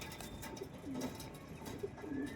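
A domestic pigeon in a loft gives a few soft, low coos, fairly faint over a hissy background with scattered clicks and rustles, no voices.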